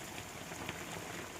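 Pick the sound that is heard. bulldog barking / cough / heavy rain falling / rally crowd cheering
heavy rain falling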